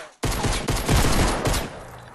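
Gunfire in a Fortnite Battle Royale squad fight: a sudden loud burst of rapid shots that keeps going for about two seconds, close and dense, then trails off.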